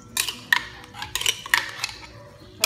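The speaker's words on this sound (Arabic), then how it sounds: "غادي ناخذ تقريبا جوج معالق ديال المايونيز" A spoon scrapes and clinks against a jar while scooping mayonnaise for a warm vegetable salad, producing several sharp taps and scrapes spaced irregularly over a quiet background.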